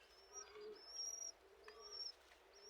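Pigeons coo softly on a rooftop while feeding their chicks, faint and low, with brief high chirps and whistles overhead in a quiet night setting.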